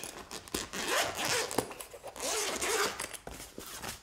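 Zipper on the storage pouch of a Bluetti SP200 200W folding solar panel being pulled open in several close, scratchy strokes, loud and continuous with brief pauses, no speech.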